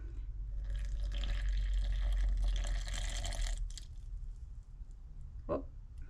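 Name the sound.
pouring water into sourdough starter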